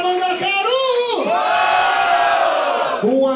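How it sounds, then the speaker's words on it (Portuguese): Crowd at a Brazilian rap battle yelling and cheering loudly, a near, full-throated chorus of voices rising and falling in long sustained shouts with brief dips between surges. "Barulho para Mandacaru."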